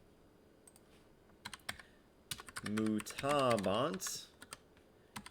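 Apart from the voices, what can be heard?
typing on a computer keyboard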